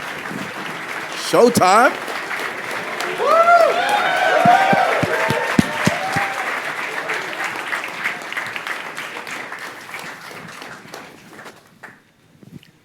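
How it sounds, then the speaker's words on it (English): An audience claps and cheers through a music-industry panel at HXOUSE, dense applause swelling early and slowly thinning out, while a voice talks over it near the start. "This is clapping"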